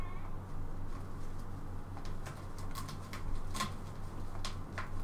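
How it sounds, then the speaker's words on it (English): A cat meows several times in the background, the calls faint and distant over a steady low hum. "There's a cat meowing at me in the background here"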